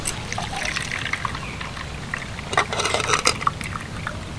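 Grated potatoes being washed in a bowl of water, with close sloshing, trickling and splashing that swell briefly toward the end, alone without speech.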